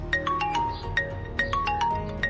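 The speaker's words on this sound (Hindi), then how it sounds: "ये तो भाई का फोन है," A mobile phone rings with a repeating melodic ringtone, a bright electronic tune cycling about every 1.4 seconds over a low background hum, with no talk.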